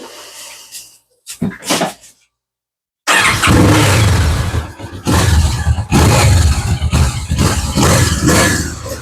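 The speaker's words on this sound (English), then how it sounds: "I'm going to fire this up, that way you can hear the factory exhaust." Kawasaki Vulcan S motorcycle on its factory exhaust, starting with a few short cranking bursts and a brief pause, then catching and idling with a loud, close, throbbing rumble punctuated by small revs.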